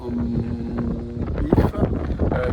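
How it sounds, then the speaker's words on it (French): Wind buffets the microphone at a roadside stop in the Madagascar countryside between Ampefy and Antsirabe, a gusty low rumble with a stronger blast midway. "Il y a un peu de vent là."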